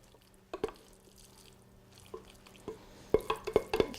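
Thick creamy zucchini mixture spills and plops into a 2-quart casserole dish, soft wet drips and squishy splats growing denser and louder toward the end, close up with no talk.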